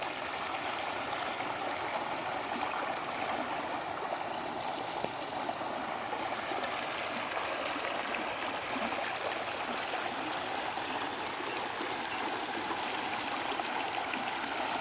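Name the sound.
waterfall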